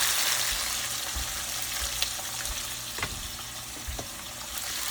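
Chopped onion frying in a pan gives a steady, close sizzle throughout, with occasional light clicks and knocks from stirring; no one speaks.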